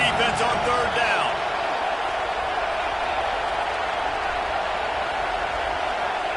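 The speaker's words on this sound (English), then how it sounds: "Decibels rising as the crowd gets behind this defense on third down." A stadium crowd roars at a USC vs Auburn football game, a loud, steady wall of cheering behind a sports commentator's voice.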